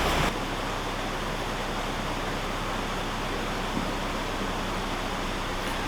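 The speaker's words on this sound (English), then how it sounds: "I can now walk forward and open the ground paddles on the gate ahead." Water rushing through the opened ground paddles of a canal lock, a dense, steady roar of churning flow that fills the whole scene loudly and evenly without pause.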